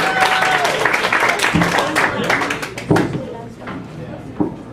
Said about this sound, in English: Put your hands together for Robert Banks, everybody